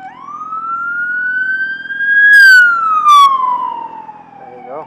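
An ambulance siren sweeps upward, holds, then slides back down, loud and fairly close, with brief bursts of higher tones partway through, over faint traffic rumble.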